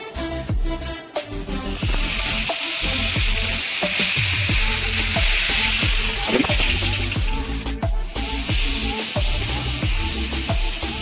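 Bammy fries in hot oil over medium heat, sizzling loudly and steadily close by with a continuous crackle and scattered sharp pops and clicks from the pan.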